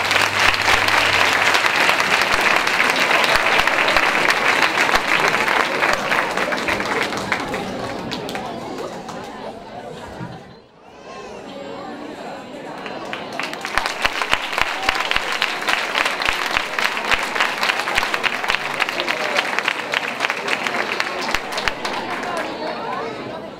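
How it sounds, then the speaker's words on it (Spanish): Applause for first-grade pupils dancing at a primary school's 2018 end-of-year ceremony: loud, sustained clapping from a packed audience with some chatter, briefly dipping near the middle before swelling again and carrying on. "¡Un aplauso para ellos!"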